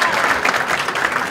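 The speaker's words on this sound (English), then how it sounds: "Why can't you clap for us?" Audience applause at a keynote address for a user conference, a dense, steady wash of many hands clapping at once, fairly loud and sustained throughout with no gaps.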